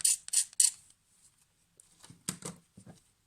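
Scissors drawn along a grosgrain ribbon for a handmade bow: three quick, crisp scraping strokes up close, followed by softer rustling and handling noises.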